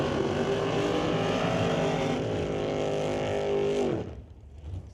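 An altered drag race car creeps into the staging beams at a drag strip with a loud, steady, throbbing engine rumble that cuts off abruptly near the end.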